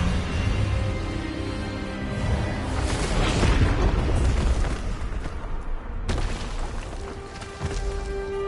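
A booming magical blast from the Expelliarmus disarming spell in the Hogwarts Legacy video game, a loud burst swelling over a rumbling score and ringing on, with a sharp cut near the end.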